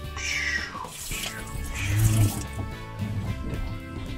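Water gushes from a shower hose on a boat being fitted out in Maine, a steady splashing, hissing flow close by while people talk over it.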